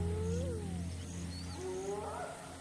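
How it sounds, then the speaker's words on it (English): Hyenas calling in the African wild, several rising and falling whooping cries overlapping at a distance over a steady low background hum. "Unfamiliar hyena calls."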